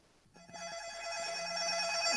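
A telephone rings with a bright, rapid electronic trill that grows louder and continues steadily, with no talking over it.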